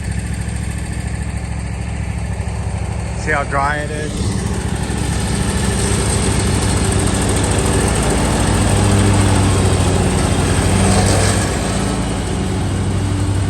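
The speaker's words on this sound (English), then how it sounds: "Let's get out and mow this dry lawn." A petrol lawn mower engine drones steadily and close throughout, cutting dry, overgrown grass, while someone talks briefly over it near the start.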